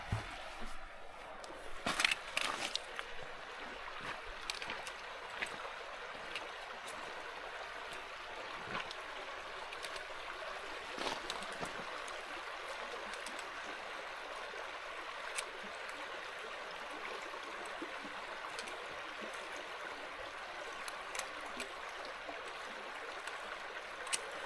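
A mountain stream on a boggy trail rushes steadily nearby while someone wades across, with occasional splashes and footfalls breaking through the constant flowing water.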